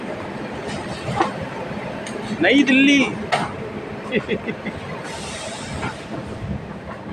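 The Tamil Nadu Superfast Express, hauled by a WAP7 electric locomotive, rumbles at a station while someone talks and a public announcement sounds, with a brief squealing screech mid-clip.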